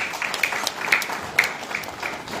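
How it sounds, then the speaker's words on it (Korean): Applause from a seminar audience at a Korean museum and art gallery policy seminar, a modest scattering of claps at moderate distance, steady for a couple of seconds with a few sharper individual claps standing out. "박수 부탁드립니다."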